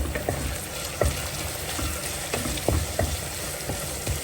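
Cut Byadagi chillies fry in a pan with a steady, crackling sizzle, and scattered sharp clicks and scrapes come from stirring, all close and without speech.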